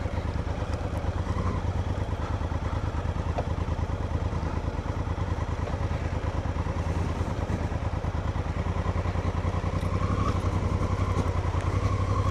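A motorcycle rides across an icy track on Salisbury Plain, its engine droning steadily and close throughout, with rhythmic clattering and rattling from the rough, frozen ground.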